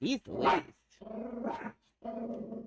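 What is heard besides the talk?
dog barking in the room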